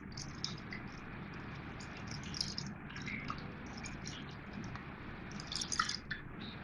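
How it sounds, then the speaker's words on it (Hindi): Cold water is poured over freshly strained homemade paneer, giving faint wet drips and squishy trickles over a low background hum, with no talk. "और इसकी खटास ख़त्म करने के लिए मैं इस पर ठंडा पानी डाल रही हूँ।"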